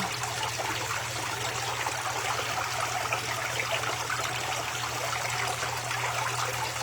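Water splashes and trickles close by in a steady, continuous wash of noise with no pauses, and a faint low hum runs underneath.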